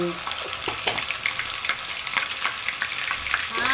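Ginger garlic paste spits and splutters in hot oil for a green chilli pickle, giving a steady close-up sizzle full of sharp crackling pops, with a voice talking over it.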